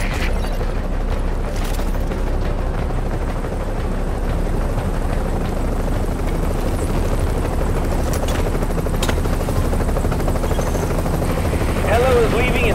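A helicopter in the video game Tom Clancy's The Division thrums with a heavy, continuous rotor rumble throughout, loud and close, with faint game sounds layered over it.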